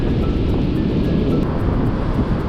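Strong wind blowing outdoors on an Australian trail, a steady loud roar buffeting the microphone throughout, with no voices.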